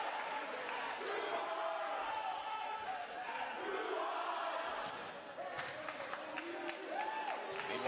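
Home crowd of Milford fans at a school volleyball match against Brookline, cheering, chanting and clapping as a steady wash of noise filling the gym, with sharper claps and calls toward the end.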